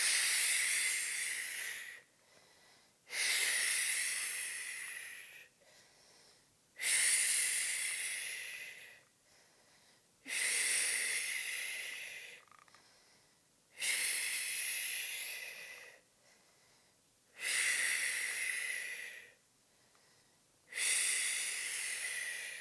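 A person doing a pelvic pain relief exercise during pregnancy lets out steady forceful exhales, seven long breathy hisses in an even rhythm, each separated by a quiet pause, close and clear with no talking.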